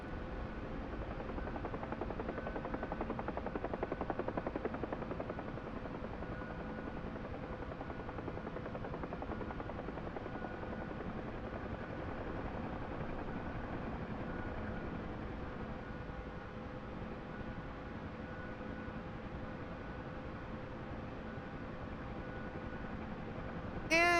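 UH-1H Huey helicopter in the DCS flight simulator, hovering and flying forward at about 80 knots, with a steady, loud rotor and turbine drone that holds constant throughout.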